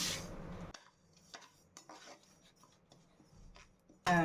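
Samai (little millet) dry-roasts in a pan, the grains stirred with a spoon in sparse scraping strokes and light rattles, close and quiet, after a brief louder burst at the start.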